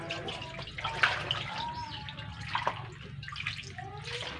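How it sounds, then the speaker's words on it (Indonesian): Water is poured out of a container after washing cincau leaves, a continuous splashing, gurgling flow with small drips, close and moderately loud. "Kita buang airnya. Dan kita cuci lagi sekali lagi."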